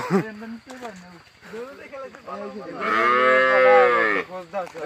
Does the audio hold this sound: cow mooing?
yes